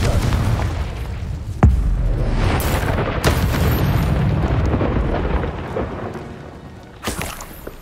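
A Confringo fire spell blast in Hogwarts Legacy bursts with a sharp boom, followed by a rolling, crackling rumble and further impacts against a continuous noisy backdrop.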